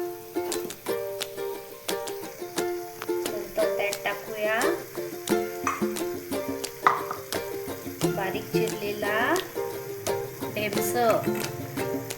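Soaked moong dal being sautéd in a pan for a Marathi home vegetable dish: a steady soft sizzle with scraping stirs of a spoon against the pan, under continuous talking.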